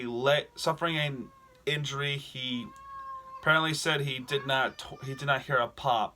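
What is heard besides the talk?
cat meowing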